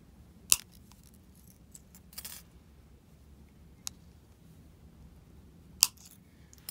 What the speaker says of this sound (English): Bend the wires over to the back. Cut them off nice and short.